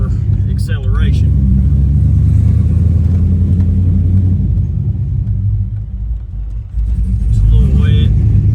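A Chevrolet S10 truck with an LSX engine accelerates on a prepped racing surface, a loud deep rumble that rises and holds, with talk over the engine at the start and again at the end.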